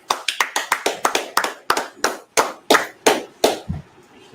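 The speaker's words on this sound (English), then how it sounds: "All right, let's clap it up." A class claps together in rhythm, a run of sharp, loud, close hand claps, quick and evenly spaced at first, then slowing into fewer, more widely spaced claps before stopping.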